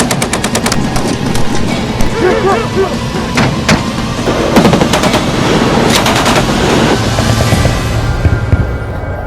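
Machine-gun bursts and single rifle shots crack loudly at a desert field firing range during an India-US joint military exercise, rapid rattling volleys over a vehicle rumble, with a voice heard faintly.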